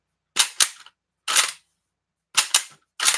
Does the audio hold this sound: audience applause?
no